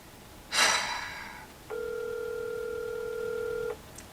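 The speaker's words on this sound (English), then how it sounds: "Taking quite a bit of time to answer the phone." A telephone ringback tone on speakerphone: one long, steady ring lasting about two seconds, with a brief breath or rustle just before it and nothing answering.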